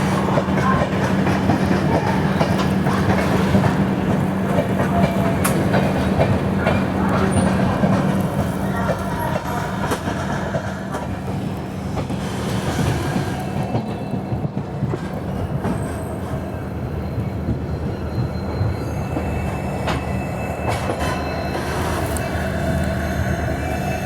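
The Garib Rath Express, a long-distance passenger train between Kolkata and Guwahati, rumbles steadily along the rails with rhythmic clickety-clack and faint wheel squeal as it changes route, heard from inside the train.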